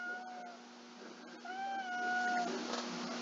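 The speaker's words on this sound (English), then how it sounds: "my grandma's cat is meowing in the background" A grandmother's cat meows twice in the background, two long, thin, rising-and-falling cries at moderate distance over a steady electrical hum, with no speech.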